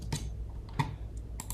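A few quick, close computer keyboard keystrokes while code is being written, light clicks in a short, uneven burst with no speech.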